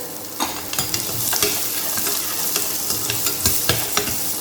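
Shallots and urad dal fry in a pan with a steady, close sizzle, broken by scraping stirs and soft clacks every half second or so. There is no talking.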